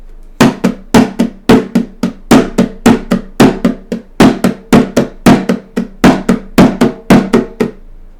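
Percussive hits in a 7/4 rhythm, accents on beats one, three and five: loud, crisp, evenly spaced strikes repeating in a steady looping cycle, alone with no voices.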